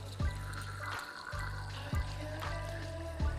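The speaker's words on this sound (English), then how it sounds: "You're going to rinse out the sample cup with tap water." Tap water runs steadily into a sample cup being rinsed, a continuous splashing trickle broken by a brief pause and a few low thumps as the cup is handled.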